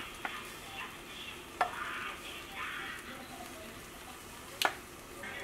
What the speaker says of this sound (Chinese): 把平底锅用中小火给它烧热，直接放入面糊